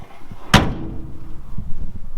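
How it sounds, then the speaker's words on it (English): A door on a 1974 International Travelette truck shuts with a single solid, close metallic slam, followed by a quiet, faint rumble and handling noise. "every door on it just opens and closes like a brand new truck"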